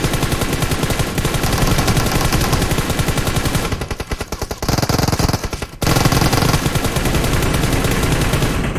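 Rapid automatic gunfire in PUBG Mobile, loud and close, sustained bursts with a brief thinner lull before the shooting resumes at full intensity.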